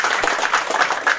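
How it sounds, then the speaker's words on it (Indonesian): An audience claps for a speaker at a gathering, a brief, dense burst of applause at moderate loudness with no voices. "kita sekali lagi tepuk tangan dulu buat Bapak Camelus"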